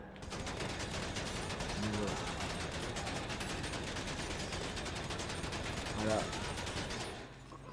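Suppressed submachine gun in GTA 5 firing long continuous bursts at a car's tyres, a dense steady rattle of rapid muffled shots lasting several seconds, with a brief spoken remark over the gunfire.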